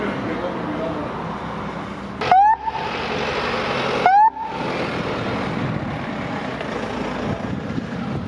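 An ambulance siren wails in two short rising bursts while driving to an emergency, over steady road noise, with the rumble continuing between and after.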